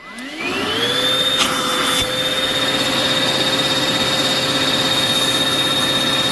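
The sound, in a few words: vacuum sucking air out of a storage bag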